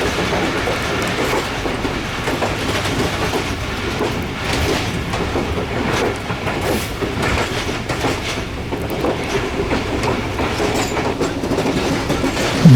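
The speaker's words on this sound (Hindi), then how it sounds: "ये बकराला के रेलवे स्टेशन से हम गुज़र रहे हैं, थ्रू पास है।" Train rolling through Bakrala railway station in Pakistan, heard from on board: a steady, loud rumble with rhythmic clickety-clack of wheels over rail joints throughout.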